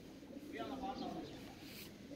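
Baku broad-tailed pigeons cooing, a soft rolling coo in the middle of the clip, fairly faint and low against a quiet background, with a voice talking nearby.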